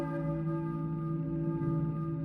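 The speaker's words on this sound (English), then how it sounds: "A church bell?" A church bell in the Silent Hill video game rings with a sustained, droning metallic tone holding steady and fairly loud for the whole stretch, with no speech over it.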